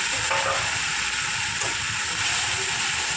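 Masala-rinse water splashed into hot oil with cumin and ginger paste for a Bengali aloo gobi curry, a loud, steady, close sizzle and hiss that holds throughout without any break.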